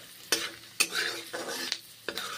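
Garlic fries in butter over a low gas flame, with a soft, steady sizzle broken by several sharp scrapes of a stirring utensil against the pan.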